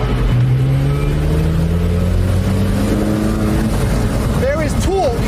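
A Porsche 918 hybrid supercar accelerates hard in sixth gear from about 50 mph. A loud, close engine drone rises steadily in pitch, and a voice comes through near the end.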